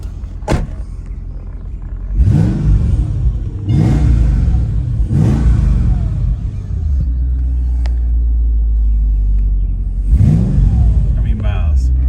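A tuned Mercedes-Benz SL55 AMG with 20-inch wheels revs up: a loud, deep, rumbling engine blipped four times in quick surges over a steady idle rumble.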